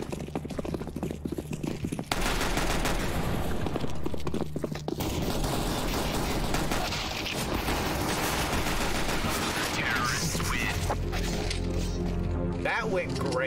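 Continuous gunfire in a CS:GO match, dense rapid shots and clatter running nearly throughout with a brief lull near the start, while voices talk over it.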